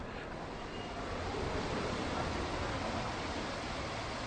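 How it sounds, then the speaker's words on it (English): Water from the Trevi Fountain in Rome splashes and rushes in a dense, steady hiss that stays even throughout, with no voices. "The sound of water kind of gives this place away."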